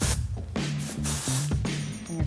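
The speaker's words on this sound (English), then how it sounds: "I like to use a little texture spray" Texturizing hair spray hisses from an aerosol can in several short, close bursts separated by brief pauses.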